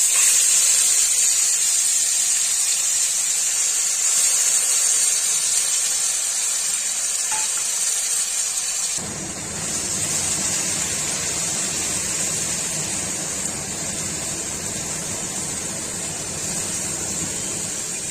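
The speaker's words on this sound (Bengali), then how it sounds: "তো আস্তে আস্তে ভাজতে লাগবে, না হলে ফুটতে থাকবে আর এদিকে ছড়াতে থাকবে।" Onion paste and black cumin frying in a pan with a bay leaf, giving a steady, moderately loud sizzling hiss that carries on throughout with little change.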